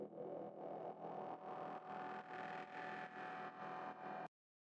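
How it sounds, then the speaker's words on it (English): Acid-style pad built from two saw waves in a Serum patch, a bright, buzzy sustained tone that pulses in a steady rhythm of repeated swells before cutting off abruptly. "Next up, we have this acid kind of pad that runs underneath the bass line,"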